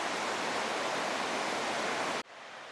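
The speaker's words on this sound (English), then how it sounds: "Okay, so this is Bub's Creek." Bub's Creek flowing on a backcountry hike, a loud, dense, steady rush of water close by that cuts off suddenly to a much quieter background hiss.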